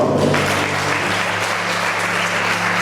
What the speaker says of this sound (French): Nous pouvons acclamer Dieu ce soir.